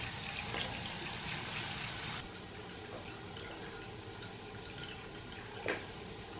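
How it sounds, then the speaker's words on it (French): Water runs gently from a tap into a bathtub as a soft, continuous stream, a little fuller at first and then settling steadily, with no talking. "Je vais couler l'eau tout doux pour que ça déborde pas, mais que mon bain soit chaud et prêt quand j'ai fini"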